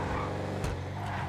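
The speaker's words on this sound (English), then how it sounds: "Listen to that engine." Bravado Buffalo Cruiser, a sixth-generation Dodge-style police car in GTA V Online, drones with a steady, loud engine hum and a brief rev accent midway, with no talking.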